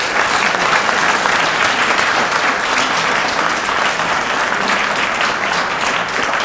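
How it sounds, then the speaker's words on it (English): Steady, loud applause from a large audience, continuous clapping that fills the whole stretch without any speech. "A giant round of applause."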